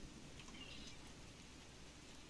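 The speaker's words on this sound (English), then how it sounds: "Wow, rain on Ryza." Steady rain falls in an outdoor cave area on the planet Ryza in the game Star Trek Online, a soft, even wash of patter that holds constant throughout with no voices.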